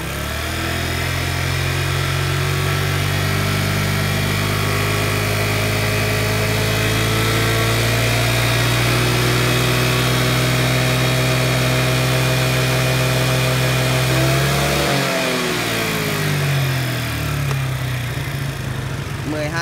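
A Yamaha Sirius motorbike engine held at a steady high rev, loud and close, a continuous whine that holds for most of the stretch, then dips and rises again near the end.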